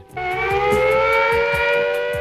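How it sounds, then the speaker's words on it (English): A civil defence air raid siren wails in a loud, sustained rising tone that starts abruptly and holds steady, heard alone without talk. "And it's that siren, the siren wailing."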